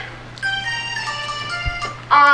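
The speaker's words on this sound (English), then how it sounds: "The dreaded cell phone symphony returns to our crucible of learning." Several cell phone ringtones go off together in a high school auditorium during a musical rehearsal, bright overlapping electronic melodies that layer on top of one another and grow louder toward the end.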